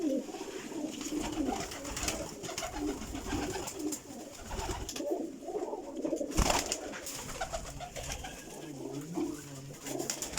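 A loft of golden high-flying breeding pigeons keeps up continuous overlapping coos close by, rising and falling in rhythm, with a brief louder thump partway through and no speech.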